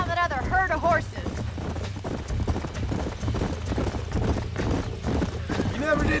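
Horse hooves clip-clop steadily in Red Dead Redemption gameplay, a running rhythm under constant music and game sound, with a brief whinny-like call near the start.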